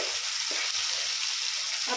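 Gongura chutney in a pan of hot tempering gives off a loud, continuous hiss and sizzle, close up, with a couple of faint stirring scrapes underneath.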